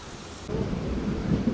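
Steady rain pours outside a moving train on a journey between Sonipat and Jind, a broad, continuous hiss that grows louder after a brief softer start, with low rumbling underneath and no talking.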